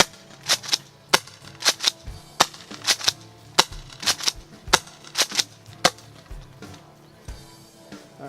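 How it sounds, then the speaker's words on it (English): A JAG Arms SPX2 airsoft gun on six-shot setting fires a series of sharp, snappy shots in quick irregular bursts, each crack close and loud with brief mechanical clatter between them. "let's go ahead and set it for 6 shot"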